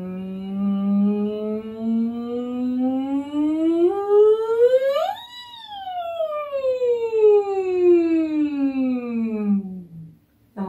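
A singer's voice does a siren vocal exercise, sliding smoothly up to a high peak and then gliding back down in one long, loud, clean sweep that imitates a siren.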